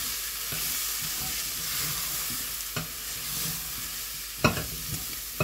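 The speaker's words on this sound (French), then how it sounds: "de nouveau, je mélange" Mixed summer vegetables seasoned with chilli or paprika and pepper hiss loudly and steadily in a pan, with a few distinct scrapes of a spoon stirring them.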